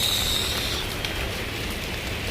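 Heavy monsoon rain pouring down, a dense, loud, even hiss of falling water that fills the whole stretch without a break, with no one speaking over it.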